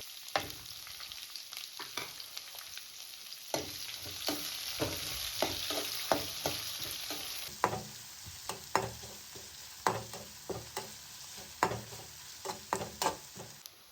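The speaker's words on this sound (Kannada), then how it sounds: "ಇದ್ರ ಜೊತೆ ಸೀಳಿರೋ ಹಸಿಮೆಣಸು ಮತ್ತು ಈರುಳ್ಳಿನ ಆ್ಯಡ್ ಮಾಡ್ಕೋತಾ ಇದ್ದೀನಿ" Slit green chillies and onion fry in hot oil for curry leaves rice, a steady close sizzle broken by repeated sharp scrapes and clicks of stirring throughout, with no voices.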